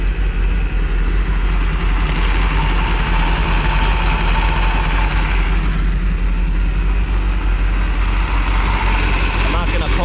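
An old boat's inboard engine, suspected of a cracked block after going unwinterized, runs steadily at idle with a loud, low, constant rumble and vibration throughout.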